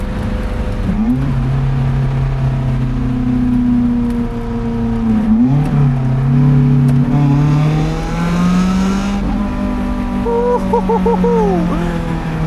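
A Lotus Elise at full throttle on an Alpine road, its engine note climbing steadily in a loud, continuous, close rising drone, with a brief dip and then a higher whine near the end.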